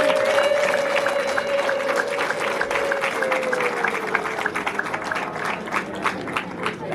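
A wedding crowd applauds with fast, scattered claps that fade in and out under a sustained tonal hum, with a few voices mixed in.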